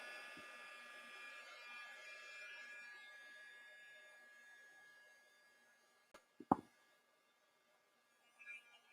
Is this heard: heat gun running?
yes